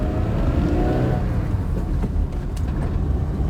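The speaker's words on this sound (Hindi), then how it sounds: "मैं गाड़ी को चला रहा हूँ रोड की तरफ" A 2006 Suzuki Liana's engine hums steadily on a test drive, a continuous loud low drone with mild acceleration, heard from inside the car with no talk.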